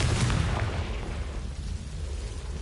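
Confringo spell blast in the Hogwarts video game: a loud, dense, rumbling explosive burst that starts at full force and slowly tapers off, heard alone without any talk.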